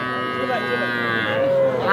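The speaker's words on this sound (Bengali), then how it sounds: "শাহিওয়াল ষাঁড় বাচ্চা, আনুমানিক 3 মাস বয়স হবে।" A roughly three-month-old Sahiwal bull calf at an Aftabganj cattle market gives a sustained, nasal moo, close and loud, with steady market noise beneath it.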